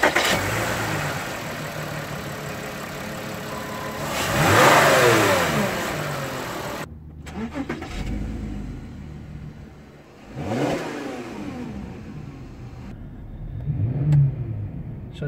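A 2006 Volkswagen Touareg VR6 engine cranks and starts, then revs up several times, each rise and fall loud and close, with idling between the revs and no talk.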